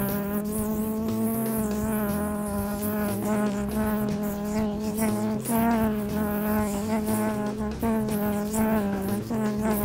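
A housefly buzzes loudly and steadily close to the microphone, a continuous droning hum with slight wavering pitch lasting the whole stretch, with no talking.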